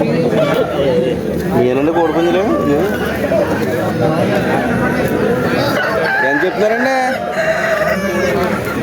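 Several roosters at a country chicken market crow in long wavering calls, one after another, loud and close amid constant clucking and a busy babble of people talking.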